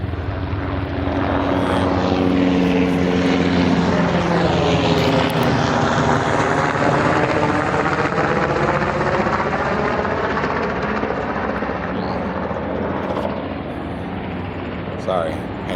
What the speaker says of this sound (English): Sorry, had to show that because big chopper flying over.